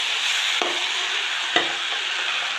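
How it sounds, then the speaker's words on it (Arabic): Salted tilapia fish sautés in hot oil in a frying pan with a steady, close sizzle, broken by two brief spatula scrapes as it is turned. "هنقلب فيه لحد ما يتشوح مع الزيت، يتغلف كله بالزيت"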